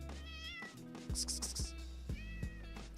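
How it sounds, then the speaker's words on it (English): A neighbor's cat meows repeatedly at close range, a series of drawn-out, wavering cries with short pauses between them, while a low steady hum runs underneath. "Come here, the neighbor's cat is here, chat."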